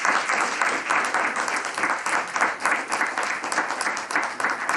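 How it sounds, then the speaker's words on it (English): An audience at a youth commission college application event applauds moderators, panelists and presenters with sustained, dense clapping that holds steady and fairly loud throughout, with no voices over it. "Can we all just give a round of applause for our moderators, our panelists, and our presenters?"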